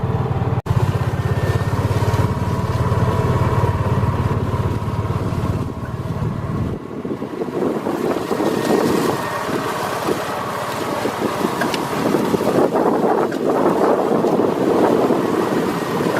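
A cart engine drones steadily as it drives over rough ground on a ride out to see deer, with constant rumble, wind buffeting the microphone and occasional jolts.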